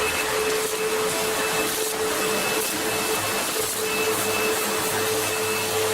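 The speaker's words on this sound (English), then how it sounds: "I'm going to have to vacuum." A vacuum cleaner runs steadily for the whole stretch, a loud constant whine and rush with no breaks and no voices.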